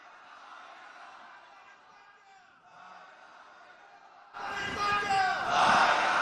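A large crowd roars back in unison with a loud, sudden burst of massed voices, following a solo leader's call of the Takbir slogan at a religious lecture gathering.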